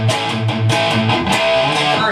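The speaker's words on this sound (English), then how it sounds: "full power chord, which might sound like this." Full power chords on a distorted electric guitar ring out in a dense, sustained wall of overdriven tone, with several strummed attacks over about two seconds, loud and close with no talking.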